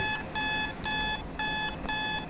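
An electronic alarm clock in a Roblox game ringing in repeated bright beeping bursts, four or five pulses with brief gaps between them, loud and close.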